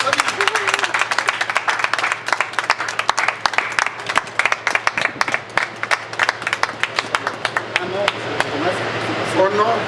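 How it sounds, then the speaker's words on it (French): Guests applaud at the inauguration of an apartment and party hall in Kinshasa, a rhythmic, sharp run of close hand claps, loud and sustained, with someone talking over it. "on applaudit, on applaudit, on applaudit."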